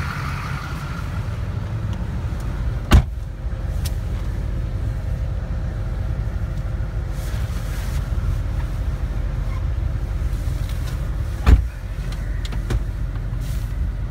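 A 2004 Chevrolet Silverado 2500HD crew cab 4x4 with the 6.6 Duramax diesel on a test drive, a steady cabin road drone and engine rumble heard from inside, with two sharp clicks or knocks along the way.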